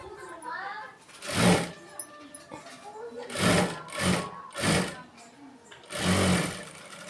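A sewing machine stitches a quarter-inch seam on a weightless blouse in four loud bursts of running, separated by brief pauses, with a voice talking quietly in between.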